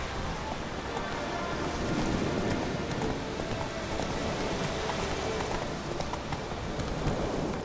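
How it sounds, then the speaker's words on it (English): The horse Roach clip-clops steadily through The Witcher 3 video game, its hooves making a continuous rhythmic patter over a dense bed of wind and ambient noise, with no voices. "Whoa there, Roach"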